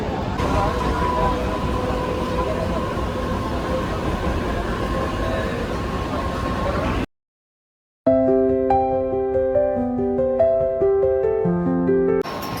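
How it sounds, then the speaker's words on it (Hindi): Steady rumbling and rattling of a moving Mumbai local commuter train fill the first half. After a brief silence comes a passage with layered tones. "हम लोग अभी लोकल ट्रेन में चढ़ चुके हैं"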